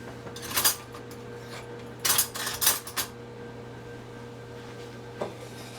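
A metal spoon clatters against dishes while a red velvet cake is being made in a kitchen, a few sharp clinks and scrapes in short clusters over a steady low hum, with no talking.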